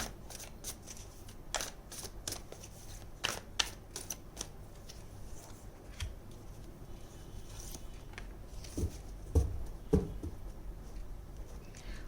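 Tarot cards being shuffled and drawn by hand, close and crisp: repeated riffling flutters and soft slaps, then a few louder card taps near the end, with no voices.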